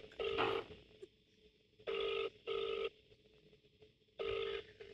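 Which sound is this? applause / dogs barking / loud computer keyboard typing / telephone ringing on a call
telephone ringing on a call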